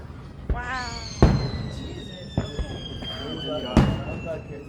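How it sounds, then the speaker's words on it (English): Screaming fireworks at a finale display: long, high, falling whistles shriek across the sky, broken by several sharp bangs, with people talking nearby. "Shoot, it sounds like a screaming girl. What is that? It's a crazy type of firework."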